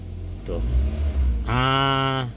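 A car engine rises as the accelerator is pressed lightly, swelling into a steady, fairly loud rev that holds for about a second after some low murmuring.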